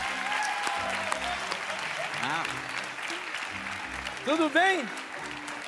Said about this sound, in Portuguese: Salve de palmas para essas mulheres